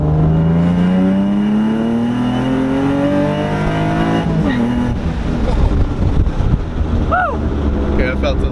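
A Nissan G35 accelerates hard through a second gear pull, its engine note rising steadily and loud from inside the car with wind noise, then easing off as the revs drop.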